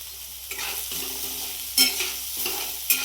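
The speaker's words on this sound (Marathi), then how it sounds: "आता हे माझं फ्राय होतंय असं मस्त लगे." Upma frying in a pan with salt just added, a steady soft sizzle broken by a few scraping stirs of the spoon, close and without talk.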